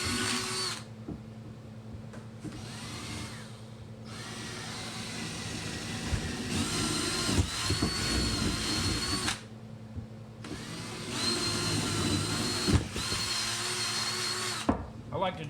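A power drill boring a quarter-inch hole into deer antlers for mounting, whining in bursts with short pauses between, a steady motor hum underneath and a voice talking over parts of it.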